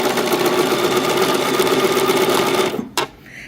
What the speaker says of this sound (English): we're just going to sew on down, keeping both layers straight